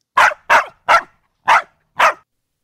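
A dog barking sound effect: five sharp, loud barks spaced about half a second apart, close and isolated against silence.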